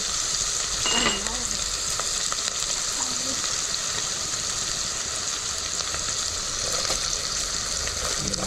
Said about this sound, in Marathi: कांदा लसूण थोडा लाल होईपर्यंत हलवत जायचं